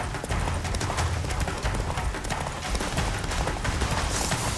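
Roach the horse's hooves clip-clop steadily on the ground in The Witcher 3, a brisk rhythmic gallop heard up close and continuous, with game ambience behind it.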